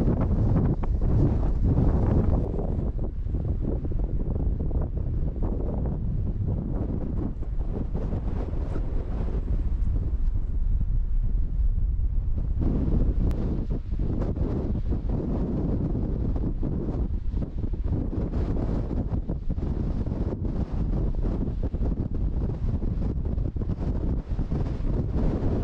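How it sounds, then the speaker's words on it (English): Strong wind on an exposed hilltop in the Peak District roars continuously into the microphone, a loud, dense buffeting rumble that barely lets up for the whole stretch, with no one speaking. "Windy."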